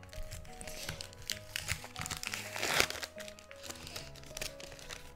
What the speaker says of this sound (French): Je suis en train de déchirer les cartes